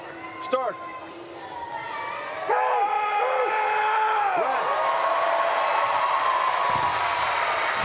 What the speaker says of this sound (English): Huge applause from the crowd